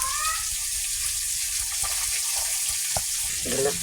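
Garlic frying in hot oil in a pan for a yogurt rupchanda fish curry, a steady close crackling sizzle that runs throughout, with a brief clatter near the end.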